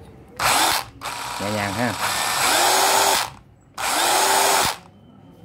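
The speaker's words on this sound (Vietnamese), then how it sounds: "qua chế độ chính giữa là vừa khoan vừa đục nè. Vừa khoan vừa có búa." Japanese cordless hammer drill switched to combined drilling and hammering mode, loud bursts of whirring with a stop-start rhythm and a brief ratcheting stretch, while someone speaks briefly between runs.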